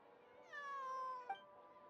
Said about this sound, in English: I believe this cat belongs to me.